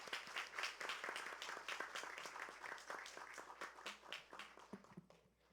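A church congregation at a Sunday worship service claps in welcome, a dense steady patter of many hands that fades toward the end.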